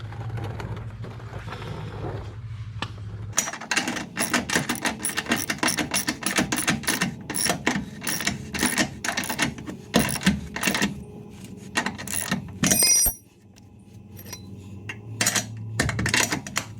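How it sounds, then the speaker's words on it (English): Rapid metallic clicking of a ratchet tightening the bunk bolts on a boat trailer, in long bursts with brief pauses and a sharp clank near the end, close and fairly loud, with no talking. "Tighten them, and then tighten them some more."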